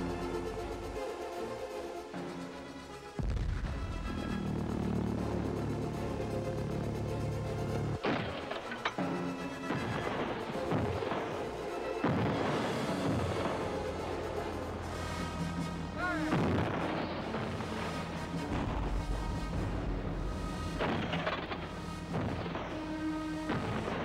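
Second World War artillery guns, radar-guided and massed along the Channel coast, fire at V1 flying bombs in a dense series of heavy booms and crashes that go on throughout, loud and continuous.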